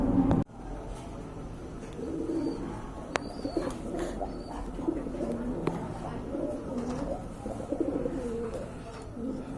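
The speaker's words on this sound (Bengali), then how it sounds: "খুবই চমৎকার এক জোড়া কবুতর" A pair of pigeons coo in low, repeated throaty phrases, fairly close, with a sharp click near the start and faint background noise throughout.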